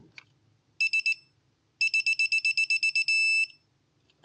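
A click-type torque wrench set to 8.9 foot-pounds on a Ford Focus ST gives off loud, sharp electronic beeps, first a short triple burst, then a longer run of about ten rapid pulses ending in a sustained tone.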